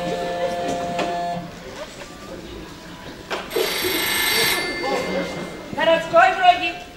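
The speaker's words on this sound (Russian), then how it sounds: "Городской звонит." A landline telephone rings in a home, bursts of bright electronic ringing rising at mid-clip and again near the end, with room noise and people talking in the background.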